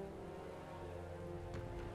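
Rain falls steadily in the video game Metaphor: ReFantazio, a soft, continuous patter on surfaces beneath a low musical bed, faint and even with no talking.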